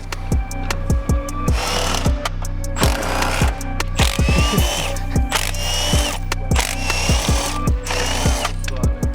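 A ratchet or power tool works on engine mount bolts of a Toyota GR Yaris, with repeated rapid clicking bursts and whirring spins, close and loud, in a workshop.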